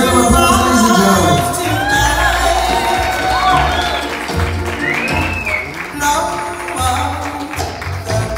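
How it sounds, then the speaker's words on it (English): A party crowd at a sweet sixteen celebration breaks into applause with cheers and whoops, loud and sustained, with a few shouted voices over the clapping. "let's give them both a big round of applause, ladies and gentlemen"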